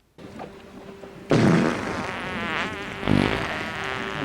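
A movie scene in a mud bath with a loud, buzzing fart-like blurt over a dense, busy soundtrack of music and effects, with a second swell of noise partway through.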